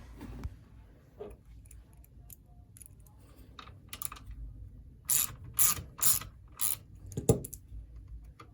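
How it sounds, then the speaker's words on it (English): Hand ratchet loosening a screw on a 2005-2012 Toyota Avalon sunshade, a few scattered clicks early on, then a quick run of crisp, close ratcheting clicks in bursts near the end. "Let's loosen that screw up."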